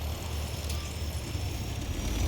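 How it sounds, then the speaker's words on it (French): A fixed-wing airplane taxiing in the video game Ghost Recon Future Soldier, heard as a steady, loud engine drone with low rumble and high whine, continuous and without talk. "L'avion est en roulage."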